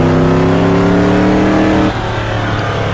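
A stadium-style SuperTruck engine in the racing game Automobilista, loud and close, droning steadily with its pitch rising, then dropping sharply as it shifts near the end.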